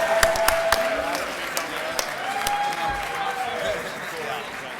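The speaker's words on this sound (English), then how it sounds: "Can we get a round of applause for all the legislators in the room?" Room full of people at a capitol summit clapping in a round of applause for legislators, a steady, dense patter of hands held throughout, moderately loud, with voices mixed in underneath.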